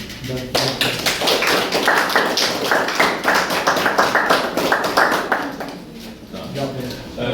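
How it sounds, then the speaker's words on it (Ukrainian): An audience applauds a speaker at an exhibition opening in Lviv, a dense steady patter of many hands clapping for several seconds, with voices talking over it near the end. "Тобі можна оплески"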